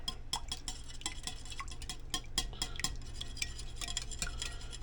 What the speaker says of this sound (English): Then we're just gonna whisk this together here.